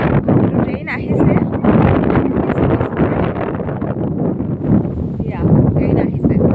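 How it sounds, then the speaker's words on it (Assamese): Strong early-spring wind at a railway station in Guwahati, Assam, buffets the microphone with loud, rumbling gusts, and a person talks throughout. "ফাগুন মাহ বহুত বতাহ মাৰি আছে"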